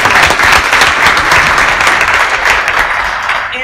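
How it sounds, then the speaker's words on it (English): A room full of people gives a sustained round of applause for early childhood education board members at a talks event, dense and loud throughout before fading slightly at the end. "Can we give them a round of applause?"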